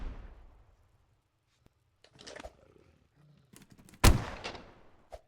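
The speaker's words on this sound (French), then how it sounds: "Ou sinon, là, vous utilisez le fusil" Rifle gunfire in a shooting video game at a cultist fortress, a loud sharp blast around midway followed by a decaying rumble, with scattered fainter game sounds and a short burst near the start.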